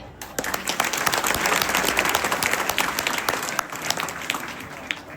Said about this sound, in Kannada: ಚಪ್ಪಾಳೆ ತಟ್ಟಿರಿ